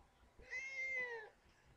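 A single cat meow sounds once, lasting under a second, faint and fairly close in a quiet room with no talking.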